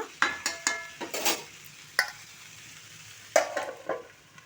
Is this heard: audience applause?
no